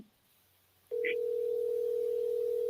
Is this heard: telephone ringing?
yes